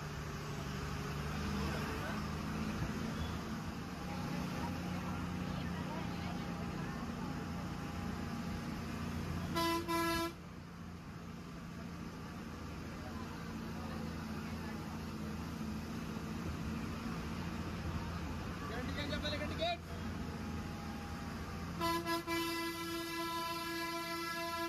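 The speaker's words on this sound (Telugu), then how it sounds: "మరొక బస్సు మనకు ఎదురుగా వస్తుంది చూడండి." Buses on a hill road up to a hilltop temple, with horn blasts sounding at intervals over continuous engine and road rumble; nearby voices are faint in the busy traffic mix.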